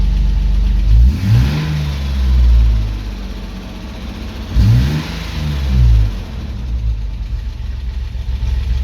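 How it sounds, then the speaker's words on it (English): A Toyota Land Cruiser FJ62 engine rumbles at a low idle between two quick, smooth revs that rise and fall, close and loud, with no voices. "it definitely revs up way quicker and smoother than before"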